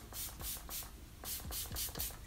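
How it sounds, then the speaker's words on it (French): Freeze Fix makeup setting spray misted in a series of short close hissing bursts, several quick pumps in two clusters, fairly quiet with no talking. "Un dernier coup du spray Freeze Fix."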